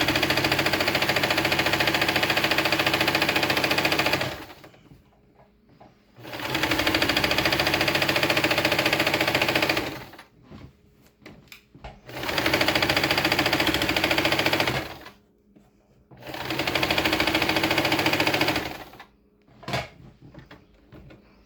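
A home sewing machine runs in loud sustained bursts of about four seconds each, stopping and starting four times with short quiet gaps between runs, during back-stitching on a beginner sewing project.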